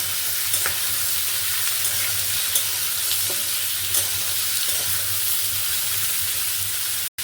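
Vegetables with salt and turmeric sizzle steadily in a pan for a dal-free Indian milk vegetable dish, a continuous close frying hiss with occasional stirring clicks, cut off abruptly at the end.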